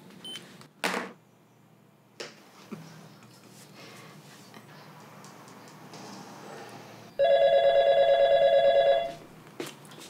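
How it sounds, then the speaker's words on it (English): An electronic telephone rings once in a steady warbling trill lasting about two seconds, fairly loud against a quiet room with scattered small knocks and clicks. "The phone's ringing! Answer the phone!"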